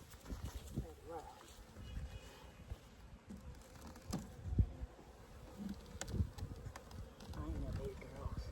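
Honey bees drone faintly around an open hive during a capped-brood inspection, their buzzing mixed with handling knocks and rustles, while a person talks softly nearby.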